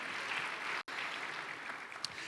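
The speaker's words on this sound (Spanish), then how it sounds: "Denle un fuerte aplauso a Jesús" Applause for Jesus from a church congregation at a sermon on the power of the resurrection, a steady wash of many hands clapping with one abrupt brief dropout partway through.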